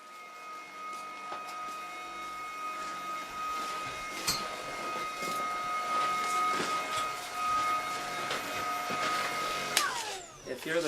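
A cordless vacuum cleaner runs over a kitchen floor, a steady whining motor tone with a strong high pitch, held close for about ten seconds before shifting and stopping, with some clatter near the end.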